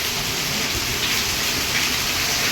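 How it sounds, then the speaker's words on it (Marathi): Heavy monsoon rain falls in Mumbai, a loud continuous roar of drops and running water that stays steady and close with no voices over it. "खूप छान पाऊस पडतोय"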